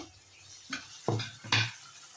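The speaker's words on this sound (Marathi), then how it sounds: "कांदा आपण अगदी गुलाबी कलरवरती तळून घेऊया, हलवून घ्यायचा आणि कांदा तळून घ्यायचा" Onion fries in a pan with turmeric and tomato for chicken biryani, a quiet sizzle broken by three distinct stirring scrapes and clatters of a utensil against the pan.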